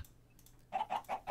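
A chicken in the Minecraft video game gives a few quick soft clucks in a short rhythmic burst after a near-silent start.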